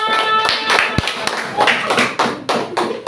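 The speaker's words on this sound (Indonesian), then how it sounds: "Beri tepuk tangan kepada kelompok 3" Students in a classroom give group 3 a round of applause, a short patter of uneven claps and a thump or two, with voices talking alongside.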